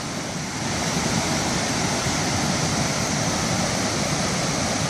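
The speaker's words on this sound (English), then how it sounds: "It's like a triple level waterfall." A triple-level waterfall in the Great Smoky Mountains gives off a steady, broad rushing roar of falling water, constant and fairly close, with no voices over it.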